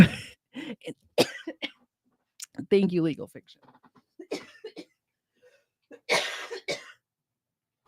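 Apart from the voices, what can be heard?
coughing fit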